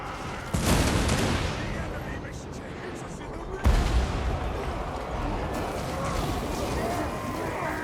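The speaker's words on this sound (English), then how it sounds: "I think these organ guns should be opening up soon." Organ guns fire in a Warhammer multiplayer battle against a Beastmen army, with two heavy booming volleys followed by a rumbling crackle of shots, loud and continuous behind a faint game backdrop.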